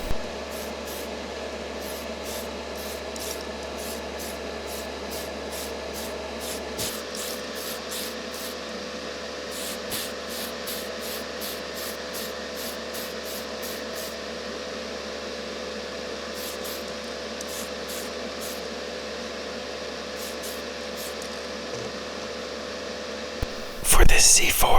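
Steady hissing spray of Mr. Surfacer 1000 primer from an airbrush coating a Tamiya Toyota Mk V Supra model car body, a continuous close airy sound over a low hum, with faint rhythmic ticking and a brief clatter at the end.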